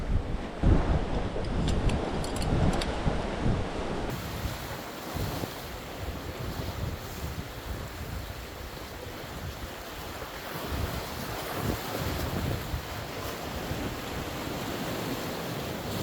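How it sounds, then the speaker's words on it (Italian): Strong wind roars across the microphone over the steady wash of storm-swell sea waves on the shore, a loud, continuous rush with no voices. "Notare il vento come soffia adesso."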